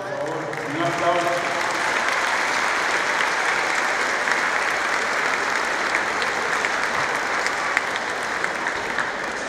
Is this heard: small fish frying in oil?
no